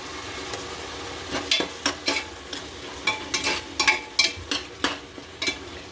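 Ginger-garlic paste frying with tomato in a pressure cooker for a Tamil Nadu-style vegetable biryani, stirred with a steady sizzle and a string of loud, close scraping strokes, no voices.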